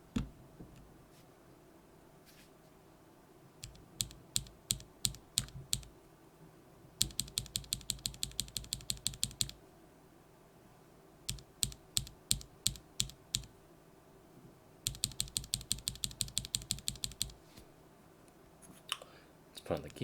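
Rapid bursts of typing on a keyboard fitted with lubed and filmed Everglide Bamboo Green tactile switches, sharp close clacks in quick runs separated by short pauses.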